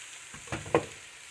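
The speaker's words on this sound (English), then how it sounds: "Let's add our prepared risoni to the rest of our cooking ingredients and stir in completely" Risoni being stirred into a pan of frying mushrooms, with a few soft scraping strokes of a spoon over a quiet background sizzle, alone and close.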